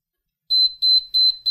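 A heat press timer alarm sounds when a ChromaLuxe sublimation photo panel finishes pressing, giving loud, clear, evenly spaced high electronic beeps, about four in quick succession after a short silence.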